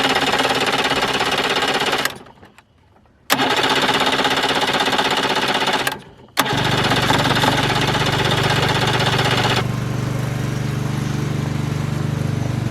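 A Tohatsu outboard motor with replacement coils being cranked gives loud, harsh, rattling mechanical churning in long runs broken by short pauses, never catching and settling into a running engine.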